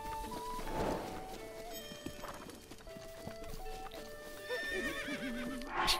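A horse in Zelda Breath of the Wild gives a loud whinny near the start, followed by hoof clip-clops and another rising neigh at the end, all over light game music.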